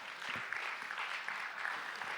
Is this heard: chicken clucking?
no